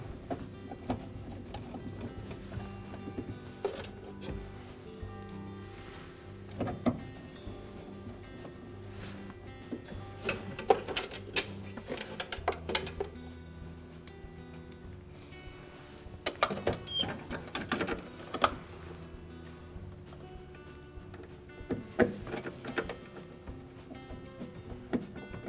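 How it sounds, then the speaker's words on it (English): A Phillips screwdriver driving three screws to secure a Kenmore refrigerator housing during a flipper repair, giving intermittent close turning, creaking and clicking under a steady background hum, with no speech. "we'll replace those three Phillips screws to secure it."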